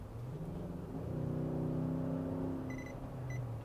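A 2014 Infiniti QX80 coasting and slowing on the road, its engine and drivetrain giving a steady low hum and whir that eases slightly, heard from inside the cabin with no talking.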